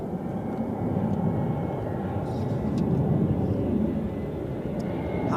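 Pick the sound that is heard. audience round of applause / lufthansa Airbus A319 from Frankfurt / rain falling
lufthansa Airbus A319 from Frankfurt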